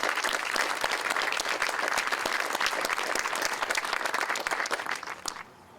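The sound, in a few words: audience applause at ribbon cutting ceremony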